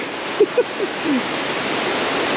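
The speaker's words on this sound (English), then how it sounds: "Here's a look of the river currently and how it should look." The Cuale River in Puerto Vallarta, Mexico, flows with a steady, close, full-bodied rush of water, joined by a few faint short chirps early on.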